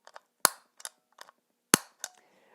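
Several sharp clicks from a stiff footswitch being stamped, spaced irregularly, close and crisp against near silence.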